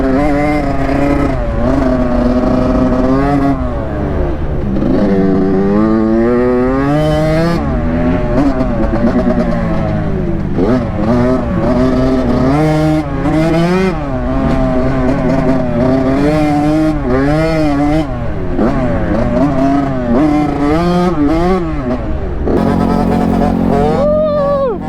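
A Suzuki RM85 and a Honda CRF150 dirt bike drag race, their engines revving loud and close in continuous rising and falling howls, with gear-change dips and repeated throttle bursts.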